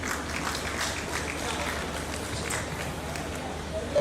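An audience at an agricultural forum on beekeeping and apiculture gives a steady round of applause, a dense even patter of many hands clapping that holds throughout.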